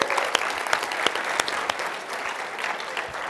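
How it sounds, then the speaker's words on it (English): An audience at a medical school follies show gives a round of applause, steady dense clapping with a few sharper individual claps standing out throughout. "round of applause for..."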